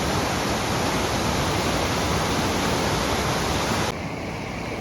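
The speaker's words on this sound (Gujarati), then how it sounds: "અત્યારે હવે જે વધારાનું પાણી હોય કઈ રીતે જોરમાં જાય છે જુઓ" Excess water rushes from an overflowing dam after heavy monsoon rain as a dense, continuous roar that stays loud and steady and then drops slightly near the end, with no voices.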